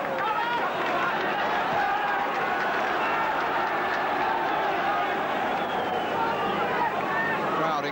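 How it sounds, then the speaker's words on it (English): A football crowd at Liverpool v Athletic Bilbao in 1983 roars continuously with encouragement as half-time nears, a dense, steady wash of massed voices with no breaks. "Crowd increasing the encouragement as the half-time interval approaches"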